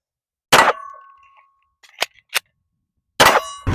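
Shots from a Stealth Arms Platypus pistol at a shooting range: a loud, sharp crack with metallic ring, a couple of short clanks, then a second loud shot, close by with no talking.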